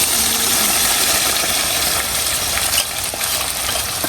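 Jute greens and masoor lentils drop into a hot tempering of onion, garlic and black cumin, and the pot gives a loud, dense hiss that runs steadily, dipping slightly near the end, with no talking.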